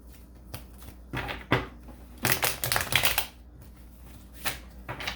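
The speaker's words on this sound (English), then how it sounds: "And get the cards shuffled" Playing cards are shuffled in several quick riffling bursts with short pauses between them, close up and fairly quiet.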